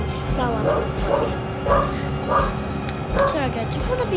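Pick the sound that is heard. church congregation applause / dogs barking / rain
dogs barking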